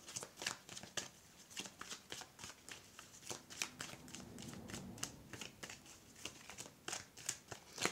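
Tarot cards shuffled and cut by hand in a steady run of crisp riffling snaps and slaps over about eight seconds, close and fairly quiet, with no talking.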